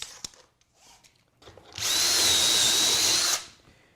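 A power drill bores a hole in wood guided by a jig while a shop cabinet is built: one loud, steady burst of about a second and a half, preceded by faint handling knocks.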